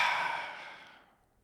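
A single long exhale during a guided breathing exercise, close and breathy, strongest at the start and fading gradually to near silence over about a second and a half, with no talking.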